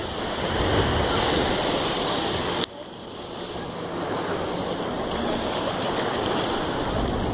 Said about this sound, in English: Are you loving the ocean, Ellie?